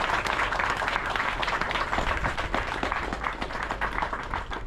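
Audience applause for the men and women of the St. Lucia Fire Service, dense clapping with distinct individual claps, sustained and fairly close throughout with no speech over it.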